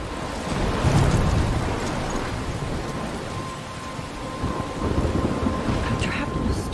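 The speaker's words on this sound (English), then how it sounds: "I'm trapped in a storm?" Thunderstorm in the video game Life is Strange, with steady heavy rain hissing throughout and low rumbling thunder swelling near the start and again toward the end, loud and continuous with no talk.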